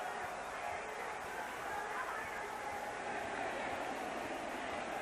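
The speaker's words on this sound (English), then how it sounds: "This crowd is excited now." Football stadium crowd at a 1990 Miami game, a broad, steady roar of cheering that swells a little without fading, heard from a distance, with a commentator's voice faintly under the noise.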